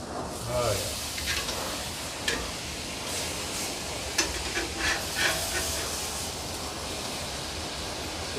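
A ribeye steak sears in a cast iron pan on a MasterBuilt 1050 grill, giving a broad, steady hiss with occasional sharper spits and crackles throughout.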